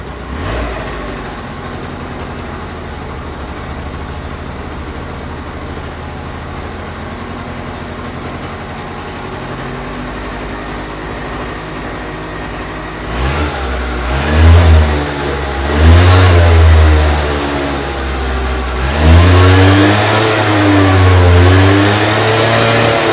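A Yamaha Vino scooter engine idles steadily, then revs up in several loud surges that rise and fall before settling back, heard close with no talking.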